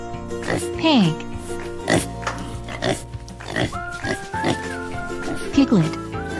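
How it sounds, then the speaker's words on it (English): A pig oinks and grunts repeatedly, several short squealing snorts scattered across a cheerful cartoon music bed. "Pig"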